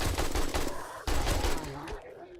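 AK assault rifle fire in a Resident Evil Spencer Mansion survival game: a dense, loud stream of rapid shots for about two seconds, with a brief break partway through before the firing resumes and then tapers off.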